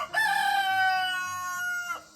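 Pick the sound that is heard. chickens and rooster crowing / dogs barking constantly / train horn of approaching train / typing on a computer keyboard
chickens and rooster crowing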